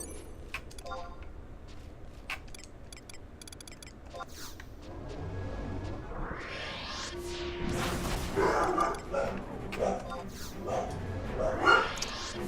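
Dogs bark and yip in Final Fantasy XI, quiet at first and growing busier, with overlapping barks, whimpers and jingling sounds while a person talks over them.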